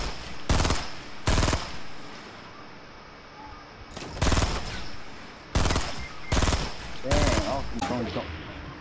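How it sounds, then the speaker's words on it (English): Gunfire from people shooting rings out in loud, sharp volleys: two quick bursts, a pause, then several more clustered blasts, close and dominant with no talking over them. "They're shooting at us."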